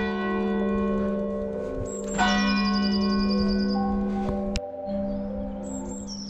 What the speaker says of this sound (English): there was a church bell, it was really loud